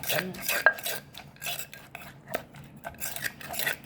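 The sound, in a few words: mixing Thai papaya salad with a utensil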